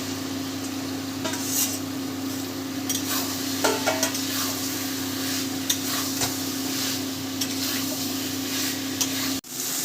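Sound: raw jackfruit added to fried spices and stirred

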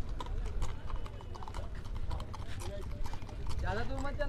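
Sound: horse hooves clip-clopping, walking in raval gait

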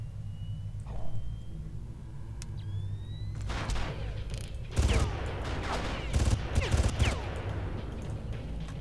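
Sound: gunfire in the video game Far Cry

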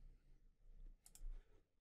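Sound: computer mouse double-click

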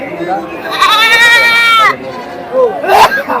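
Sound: male goats bleating at a market

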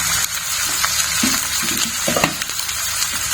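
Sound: potatoes added to beans, frying in pan

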